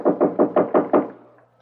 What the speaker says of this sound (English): Said some guy was hammering on the door to the apartment next door.